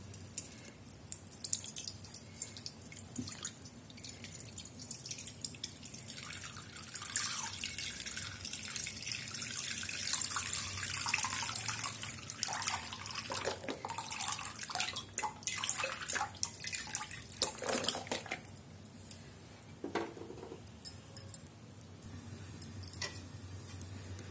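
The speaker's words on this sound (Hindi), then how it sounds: "अब इसमें हम एक लीटर दूध को डालते हैं" One litre of milk poured into a kadhai while making fresh coconut barfi, giving a steady, splashing liquid rush that swells through the middle and then settles into softer trickles and clinks near the end.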